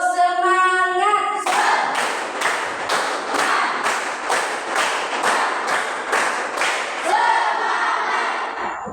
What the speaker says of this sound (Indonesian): mari kita berdiri dan tepuk semangat.